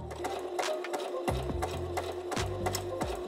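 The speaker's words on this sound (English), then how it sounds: "I backstitched the chiffon a lot longer than I needed because it often causes tangling on the reverse side" Domestic sewing machine backstitching black chiffon fabric for a doll headband, a close steady mechanical whir that stops and restarts in short bursts as the stitch direction reverses, with no talking.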